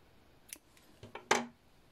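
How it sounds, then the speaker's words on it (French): Scissors snip through crochet yarn at the end of a round of a thick, plush crocheted rug, giving a few close, crisp cuts near the end, the last one loudest, with no talking. "Là, je vais couper le fil."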